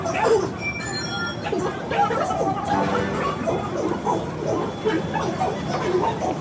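A crowd fills Yeshwantpur railway station in Bangalore with dense, overlapping chatter. Brief tonal chimes sound near the start, and the murmur continues steadily throughout.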